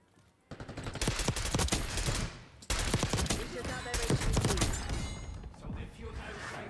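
Gunfire in Call of Duty Black Ops 6 Face Off mode, from a shotgun and AK-47 class, with repeated close shots and bursts over a steady clatter of game action, briefly dropping away before resuming.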